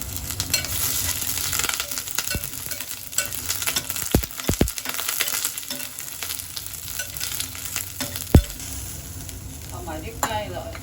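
Oil heating and sizzling in a wok for braised chicken with mushrooms, a continuous crackling fry with scattered pops, clanks and scraping stirs over about ten seconds.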